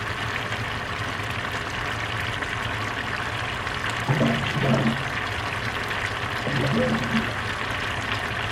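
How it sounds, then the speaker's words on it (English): Clean water from a home reservoir poured for a pork stew, a soft continuous trickling and splashing under a steady background hiss, swelling briefly in two short bursts. "So I'm getting water from my reservoir because the water is more cleaner."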